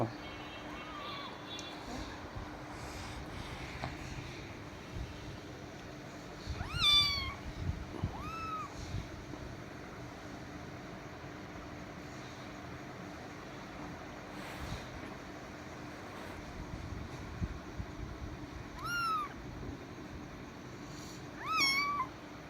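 A cat meows several times at scattered intervals, fairly quiet, over a low ambient background hum.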